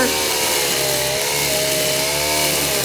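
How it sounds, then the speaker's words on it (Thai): A loud, high-revving string trimmer drones continuously up close, its small engine whining steadily throughout. "ครั้งแรกที่ป้าใหญ่ใส่เครื่องตัดหญ้าจ้ะครั้งแรกค่ะ"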